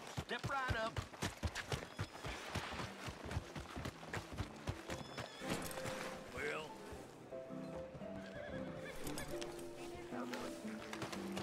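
Horse hooves in Red Dead Redemption 2 clip-clop in a quick, steady rhythm, faint beneath someone talking and game ambience.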